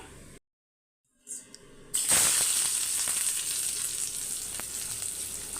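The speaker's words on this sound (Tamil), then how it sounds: "ஒரு அரை வெங்காயத்தை நல்லா ஃப்ரை பண்ணி" Half an onion frying in ghee for ghee rice bursts into a loud, close, continuous sizzle after a brief silence, then keeps hissing steadily with faint clicks of stirring.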